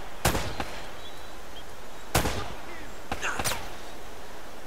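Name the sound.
9mm pistol gunfire in video game Uncharted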